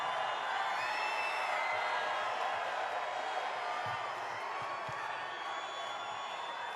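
A big rally crowd in Bangor, Maine cheers steadily for Donald Trump, a dense continuous roar with scattered whoops heard from a distance.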